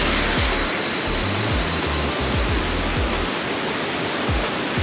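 A waterfall on a trail in Newry, Maine pours with a constant close, loud rush of water that fills the whole stretch, with a few faint low thumps and no talking.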